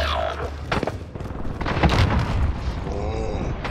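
A precision airstrike explodes in a video game, a deep booming blast with rumbling low-end debris that swells and lingers under game noise, with a brief voice early on.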